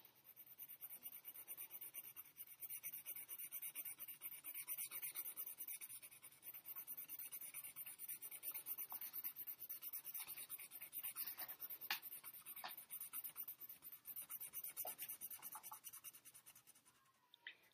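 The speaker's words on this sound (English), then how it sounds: "I'm going to push as hard as I can make my pencil go without breaking my pencil lead" A pencil shades hard on paper, pressed as firmly as possible, a close, continuous scratchy rasp of back-and-forth strokes lasting many seconds, with brief pauses and no talk.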